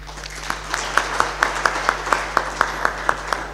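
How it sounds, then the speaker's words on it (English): Lecture-hall audience applauding a professor after a spring lecture, a steady wash of clapping with sharp, evenly spaced hand claps standing out in a regular rhythm throughout. "May we please give a very big round of applause to Prof. Mashavela"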